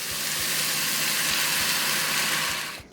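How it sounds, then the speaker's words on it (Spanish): Vegetables seasoned with cumin and oregano fry in a pan, a steady, dense sizzle that fills the whole stretch with faint low ticks beneath, then drops away suddenly at the very end. "Aquí en este momento que se está friendo los vegetales"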